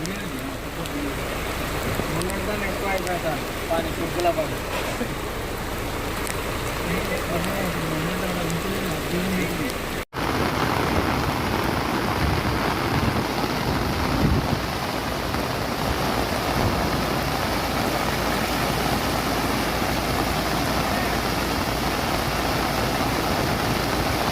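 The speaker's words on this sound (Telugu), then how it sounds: "గులాబ్ తుఫాన్ ప్రభావంతో తెలంగాణ వ్యాప్తంగా కుండపోత వర్షాలు కురుస్తున్నాయి" Torrential rain from Cyclone Gulab falls across Telangana, a dense, steady wash of noise. Voices and some engine-like rumble are audible in the first part, then the downpour continues as an unbroken roar.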